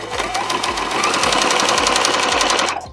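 A sewing machine runs steadily for nearly three seconds, hemming the back panel of a fabric pillow cover, a close, even mechanical whir with a quick regular needle rhythm before it stops abruptly.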